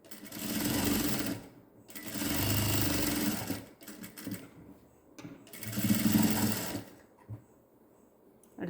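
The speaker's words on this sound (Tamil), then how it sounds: "பட்டன் வைக்கிற அளவுக்கு மடக்கி தைச்சிருங்க" A sewing machine stitches fabric for a newborn baby's gown in three close bursts of rapid mechanical whirring, separated by short pauses and small handling clicks.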